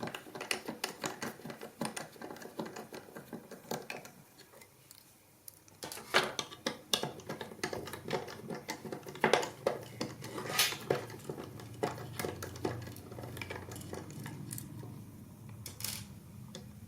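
Screws being taken out of a Dreamcast GDEMU mounting tray, with faint scattered metallic clicks, taps and small rattles of parts being handled close up in a quiet room.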